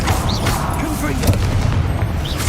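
A Confringo blasting spell detonates in Hogwarts Legacy, a loud booming blast with rumbling low-end rubble, heard amid game noise and voices.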